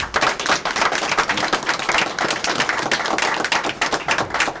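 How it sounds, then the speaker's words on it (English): Applause from the audience at a regular board meeting, dense and steady clapping throughout, fairly close and loud, with no talking over it. "Let's give them another round of applause."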